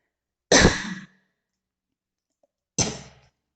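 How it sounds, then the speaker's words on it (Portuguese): Two separate sharp coughs, close and fairly loud, about two seconds apart with silence between them. "Desculpa aí a tossida."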